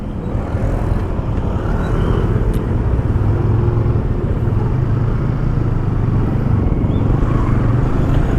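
A motorcycle rides along a road in Indonesia, heard from the rider's seat as a steady, loud engine and wind rumble that continues without a break and with no speech.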